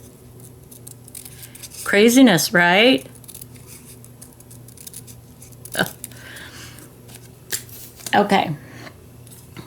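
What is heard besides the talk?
scissors cutting paper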